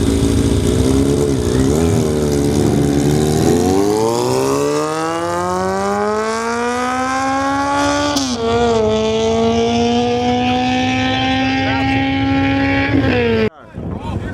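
A land-speed car on the Lake Bonneville salt flat course in Utah screams loudly and close through its gears, the engine pitch climbing and shifting repeatedly before cutting off abruptly near the end.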